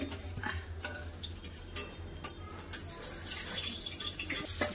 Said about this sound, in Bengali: সব পটলগুলো আমি ভেজে নেবো।